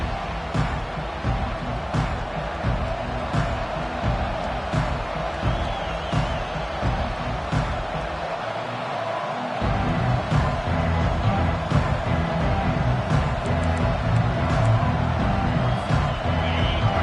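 Loud stadium crowd at a Michigan vs. Wisconsin college football game roars continuously, swelling louder in the second half, with a commentator's voice faintly beneath the din.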